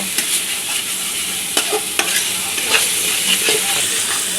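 Chili powder and spice masala for a shrimp dish are stir-fried in a pan, giving a steady sizzle broken by repeated scraping strokes of the spoon.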